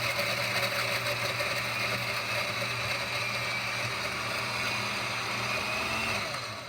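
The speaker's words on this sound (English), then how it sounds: "Okay, then I'm going to hit blend." A blender whirs steadily while mixing an Orange Julius drink, a loud, close mechanical drone with a rattling edge that holds evenly and then winds down at the end.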